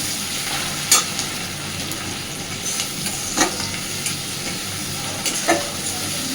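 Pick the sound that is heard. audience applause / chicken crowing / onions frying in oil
onions frying in oil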